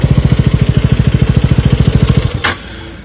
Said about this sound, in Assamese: বাইকৰ মই ইঞ্জিন চাউণ্ড অফ কৰি দিলোঁ